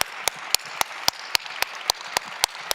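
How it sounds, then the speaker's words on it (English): At an arts interview event in Chicago, an audience applauds a speaker, with a low wash of clapping under sharp, evenly spaced louder claps, about ten of them, from one pair of hands close by. "A big applause for Stanley."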